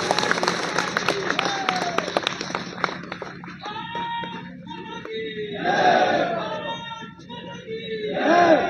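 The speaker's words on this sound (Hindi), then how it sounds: "मैं आप लोगों से अपील करूंगा कि जोरदार तालियां बजा करके" A rally crowd applauds and cheers for Praveen Popli, with scattered clapping, shouts and voices rising and falling in waves, loud throughout and swelling again toward the end.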